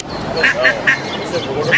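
Mother duck and ducklings quacking in a city street rescue, several short repeated quacks spread across the clip under steady broadcast talk and street noise.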